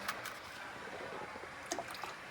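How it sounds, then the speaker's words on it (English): Cornstarch and water slurry pours into a sauce nearing a boil, giving a faint, soft liquid splash and squishy trickle over low background hiss. "we're going to add in the cornstarch water mix"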